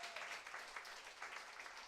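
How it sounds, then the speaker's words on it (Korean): An audience claps steadily and fairly loudly for a couple of seconds, a dense, continuous patter of many hands with no voices. "박수 좀 크게 쳐주세요."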